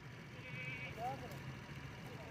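A large Beetal Amritsari goat at a Lahore livestock market gives a brief, high bleat amid steady crowd murmur and distant traffic noise, with people talking nearby.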